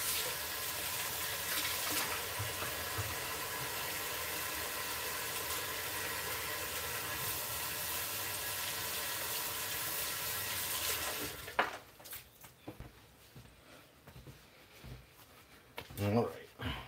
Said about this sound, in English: And again, gonna go wash my hands.